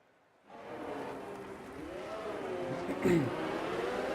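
Race cars idle and rumble forward together on a formation lap at Bahrain in a sim racing game: a dense droning chorus of engines kicks in abruptly and hums on, with pitch wavering and a brief squeal-like spike near the end.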